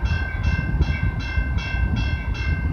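A train rolls into London East Yard on the Dundas and Galt Subdivision in London, Ontario, in February: a steady low rumble with a regular, repeating clatter of passing cars, fairly close, no talk.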